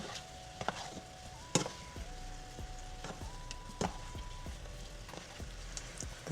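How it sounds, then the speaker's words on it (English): Honey garlic shrimp simmers in a thickening sauce in a pan, giving a steady low sizzle broken by scattered bubbling pops and occasional sharper crackles, with a soft, thin melodic tone running underneath. "We're gonna allow this to simmer for about 2 more minutes."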